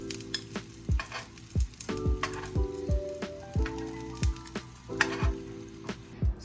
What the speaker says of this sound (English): Now that my plátanos are frying